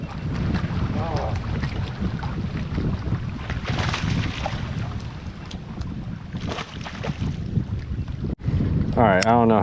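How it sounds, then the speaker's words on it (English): Wind buffets a fishing boat on open water, a steady broadband rush with microphone wind noise that holds loud and close throughout, briefly dipping near the end. "The wind started up"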